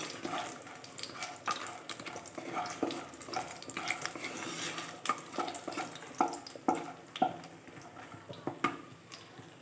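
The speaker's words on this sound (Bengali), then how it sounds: "বড়িটা একটু লাল লাল করে ভেজে নামিয়ে নেব।" Bori lentil dumplings frying in oil until reddish, a soft continuous sizzle with scattered light clinks and stirring taps of a utensil against the pan.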